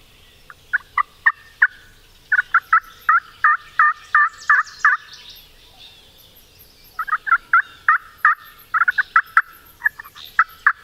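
A wild Merriam's turkey gobbles repeatedly outdoors, its rapid rattling calls coming in several loud bursts with short pauses between, clear against a quiet background with faint birdsong.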